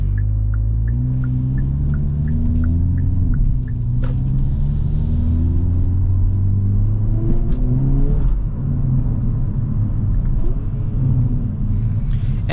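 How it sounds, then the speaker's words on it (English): A 2022 Hyundai Kona N on summer tires launches hard, its engine rumbling and climbing through rising pitch sweeps, with brief dips at the shifts of the 8-speed wet dual-clutch transmission. The sound is close and continuous, and no one speaks. "test it myself to see how good this launch control is"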